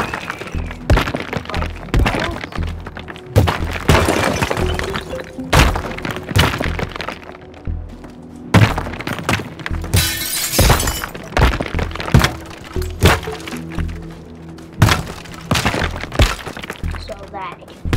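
Voxel buildings smashed apart with a sledge in the Teardown video game, producing repeated loud crunching impacts, cracks and crumbling debris, with a voice talking over the destruction throughout.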